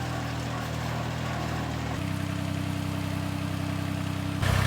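A tractor engine runs steadily in a low, throbbing idle that rises slightly in pitch and loudness partway through, close by with no talking.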